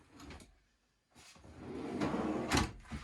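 A big drawer in a skoolie school bus conversion slides open and shut, giving close wooden rumbling and scraping with a light knock at the end.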